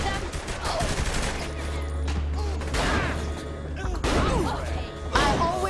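Sniper and other gunfire in the video game Saints Row: The Third cracks out in loud, repeated bursts over a constant low rumble.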